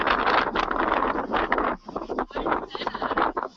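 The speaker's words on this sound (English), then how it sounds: "you can actually hear the wind" Wind gusts across a disc golf course on a breezy day, buffeting the microphone in uneven rushing bursts with short lulls between them.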